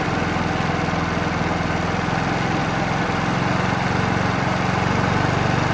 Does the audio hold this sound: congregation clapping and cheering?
no